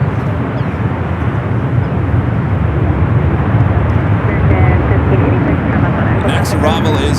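A China Eastern airliner bound for Shanghai at San Francisco airport, heading toward runway 28, gives a loud steady jet engine roar, with a voice talking over it.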